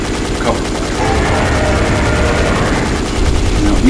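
Rapid cannon fire in Dino Crisis 2 rattles on continuously as cover fire through a dinosaur nest, dense and loud throughout with no pauses.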